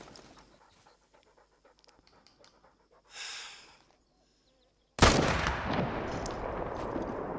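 A rifle shot at a buck in the hunting video game Hunter Call of the Wild, one sudden loud report that breaks in after quiet breathing and a short rustle, followed by a sustained rolling echo.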